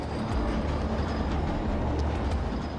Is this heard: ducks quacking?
no